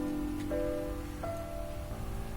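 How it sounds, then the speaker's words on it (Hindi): Faint, steady rain falls on an organic farm in Uttarakhand, India, a soft continuous patter heard alone at low volume. "साथ में बारिश भी हो रही है।"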